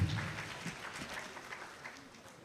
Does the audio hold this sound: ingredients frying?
no